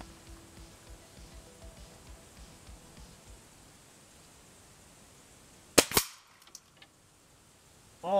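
A Crosman F4 Nitro Piston .177 air rifle fires a Gamo Rocket pellet outdoors, one sharp loud crack after a stretch of quiet background hiss, followed by a few faint clicks.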